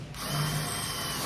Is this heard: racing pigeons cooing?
no